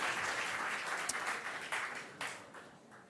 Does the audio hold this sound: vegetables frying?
no